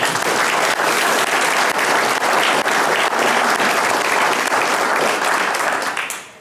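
A loud, sustained round of applause from the audience at a State of the City address, thick and continuous before quickly fading out at the very end.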